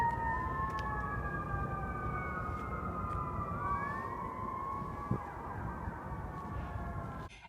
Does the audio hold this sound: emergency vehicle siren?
yes